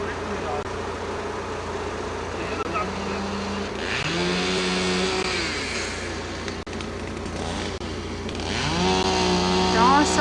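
Chainsaws cutting away fallen trees after a 1980 tornado in Welcome, a continuous buzzing whine that rises and falls in pitch as the blades bite, heard at moderate distance over a constant engine-like background.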